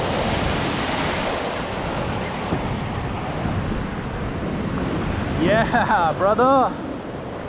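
Ocean surf breaking on a beach, a continuous loud roar of waves mixed with wind buffeting the microphone, with a man's brief exclamations near the end.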